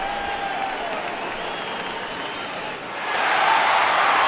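A home crowd applauds at a baseball home opener, a broad, steady wash of clapping that swells louder near the end, with some cheering mixed in.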